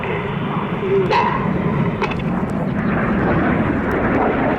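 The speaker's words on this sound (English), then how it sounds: "the aircraft conduct a barrel roll, leaving a snake-like smoke trail in the sky" RAF Red Arrows jet aircraft at an air show roar past loud and continuous, mixed with crowd noise and a commentator talking.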